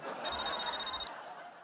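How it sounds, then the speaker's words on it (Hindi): A telephone rings once with a single electronic trill lasting about a second, heard over a murmuring audience on a comedy show set. "अभी फोन आ गया आपका।"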